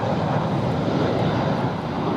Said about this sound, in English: Now we've got a Ryanair coming in.